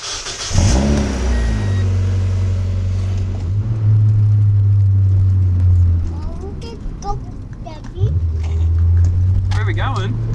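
A Mazda Miata track car drives along, its engine droning in a steady, fairly loud tone that briefly eases and then builds again, while people talk over it inside the car.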